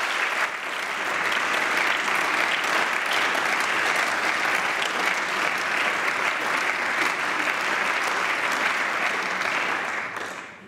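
Sustained applause fills the Bavarian Landtag chamber for a departing minister at a swearing-in session, a dense, steady wash of many hands clapping at even loudness for about ten seconds before tapering at the end.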